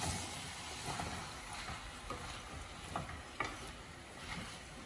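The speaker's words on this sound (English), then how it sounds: "Let's check the butternut squash. Give it a little mix." A spoon stirs butternut squash cooking in a pan, scraping in soft, irregular strokes over a low background sizzle, quiet and close, with no talking.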